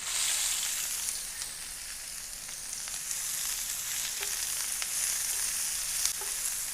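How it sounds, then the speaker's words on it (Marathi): Finely chopped medium onions frying in two ladles of hot oil for a Koli-style egg tawa masala, giving a steady, close, even sizzle that holds throughout with a few faint pops and utensil clicks. "तेल गरम झालेलं आहे. आता आपण त्यामध्ये हे मध्यम आकाराचे बारीक चिरलेले कांदे घालूया."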